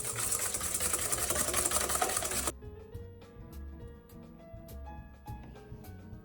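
An electric mixer whips egg yolks for a sponge cake, a steady whirring drone for about two and a half seconds that cuts off abruptly, followed by quieter tonal background sounds.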